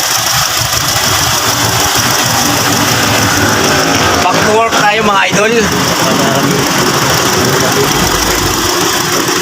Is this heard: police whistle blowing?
no